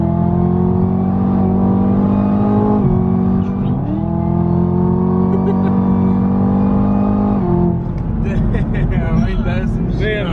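Modified E85-fueled 5.0 Mustang and a 2019 ZL1 Camaro accelerating hard on a highway, loud sustained engine roar with rising revs and shifts, heard from inside a car with excited talk over it.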